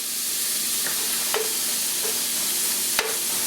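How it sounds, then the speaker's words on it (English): Ground beef frying in a hot wooden-handled pan, steady close sizzle with a few sharp scrapes and taps as the lumps of meat are broken apart. "here all you have to make sure is that the pan is hot and you are breaking down the lumps of meat"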